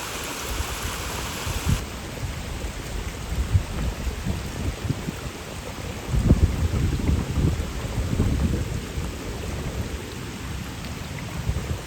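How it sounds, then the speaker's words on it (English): A tall waterfall rushes and tumbles down over rocks in a loud, continuous broadband roar heard up close, swelling slightly partway through, with no voices. "This waterfall is a lot higher than we thought it was. Just keeps meandering down the rocks."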